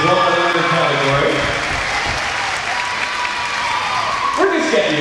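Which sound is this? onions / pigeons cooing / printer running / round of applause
round of applause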